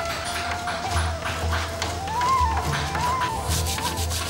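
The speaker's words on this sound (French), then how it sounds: "La table est ensuite poncée" Close, steady rubbing strokes of sandpaper work over a marquetry wooden table in a Taghzout workshop, rhythmic and fairly loud, with a faint whistling tone wavering in the background.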